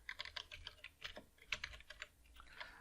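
Fingers typing an email address on a computer keyboard, a quick, irregular run of soft close key clicks with short pauses between bursts, fairly quiet and with no voices.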